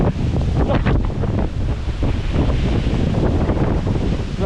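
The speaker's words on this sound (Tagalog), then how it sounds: "grabe ang lakas ng hangin, oh" Strong seaside wind roars and buffets the microphone at a boat building site, a loud continuous gusting rush with surf-like noise and no talk.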